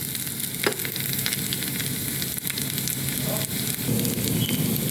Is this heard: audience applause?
no